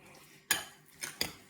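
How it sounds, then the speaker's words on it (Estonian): A spoon clinks against a bowl or glass while stirring raw cane sugar into juice, three short close scrapes and taps, fairly quiet, no talking. "Segan kohe läbi, siis hakkab see suhkur siin sulama"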